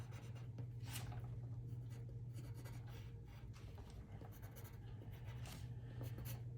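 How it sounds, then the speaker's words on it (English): Graphite pencil sketching on paper, drawing small triangles for a symmetry study, gives a steady, close scratching rub that runs continuously with small shifts in pressure and stroke direction. "And you see I'm just sketching with pencil."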